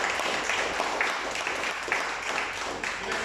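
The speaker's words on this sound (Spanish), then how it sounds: "le damos un fuerte aplauso al Señor" A church congregation at Iglesia Monte Sinaí applauds steadily, a dense, even wash of clapping from many hands filling the whole moment without a break.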